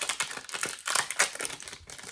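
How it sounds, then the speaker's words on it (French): Crinkly foil wrapper of a Marvel Super Heroes Collector Booster card pack being torn open and crumpled, a dense run of sharp crackles and crinkles, close and loud, with no talk. "On déballe notre Collector Booster."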